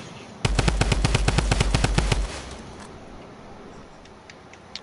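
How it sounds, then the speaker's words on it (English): Rapid burst of about fifteen evenly spaced gunshots in Fortnite, loud and close, lasting roughly two seconds before dropping to quiet background. "They're sniping, they're trying to snipe."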